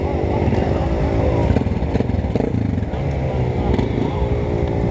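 A group of sixteen dirt bike motorcycles on a trail ride drone and rev together in a loud, continuous, dense engine roar, with voices partly buried beneath it.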